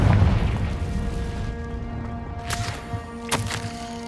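A Confringo fire spell explosion in Hogwarts Legacy, a deep rumbling boom already underway that fades over a few seconds, followed by a couple of sharp thuds or crackles.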